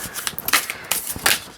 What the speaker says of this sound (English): Shuffle this to get a message on the week ahead.